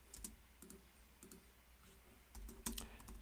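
Fingers type on a computer keyboard, quiet close clicks in short uneven bursts with brief pauses, the loudest flurry of keystrokes at the end.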